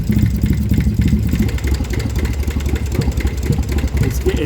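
BMW i8 engine running rough after a blown head gasket repair, with smoke from the intake: a loud, steady, uneven low rumble with irregular pulsing throughout, close by.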